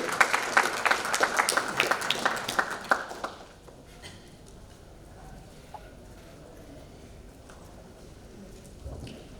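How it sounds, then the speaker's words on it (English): Applause from a press conference audience, a dense crowd of clapping hands for the first three seconds that quickly fades out, leaving quiet room tone with faint murmurs. "please clap"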